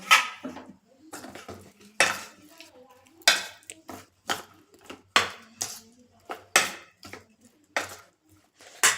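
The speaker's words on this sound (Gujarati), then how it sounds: "થોડો કોર્નફ્લોર પહેલાં એડ કરી અને આપણે બરાબર મિક્સ કરી લેશું" A spoon scraping and knocking in a bowl as soya chunks are mixed with cornflour, giving sharp, repeated clinks and scrapes at a steady, uneven rhythm, close and fairly loud, with no talk.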